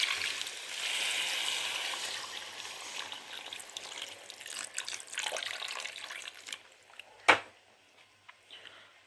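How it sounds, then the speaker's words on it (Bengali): Water pours into a pan of egg curry in a steady splashing stream for several seconds, then stops, followed by a sharp clink and a few faint clatters nearby. "এবার এর মধ্যে জল ঢেলে নেবো।"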